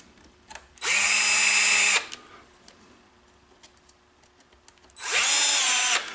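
Power drill backing screws out of an airframe during a servo install, two loud, close whirring bursts of about a second each, separated by quiet handling clicks and taps.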